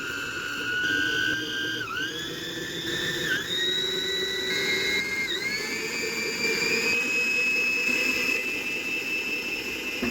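A six-speed electric mixer whirs steadily for the whole stretch, its high motor whine stepping up in pitch three times as it is switched through faster speeds, loud and continuous with no talking.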